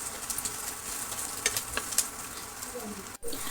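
Potato and soya sizzle and fry with onion masala in a pan, a close steady crackle with scattered pops and the scrape of stirring, cut briefly by a short silence near the end.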